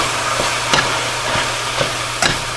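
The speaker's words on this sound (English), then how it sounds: "I just lightly sprinkle the flour over my sausage and give that a quick stir" Sausage crumbles with a sprinkle of flour stirred in a pan for sausage gravy, a steady low frying hiss punctuated by four or five spaced scrapes of a utensil, close by and without speech.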